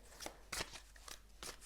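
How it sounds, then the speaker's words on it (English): Tarot cards being shuffled by hand, a series of soft, close papery slaps and riffles repeating irregularly at low volume. "I'm going to shuffle and see what the cards have to say"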